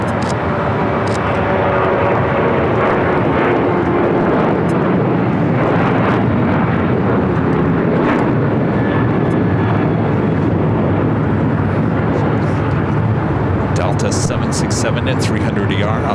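Airliner engines roar at LAX runway 25 right, a loud, continuous broadband rumble with a voice talking over it.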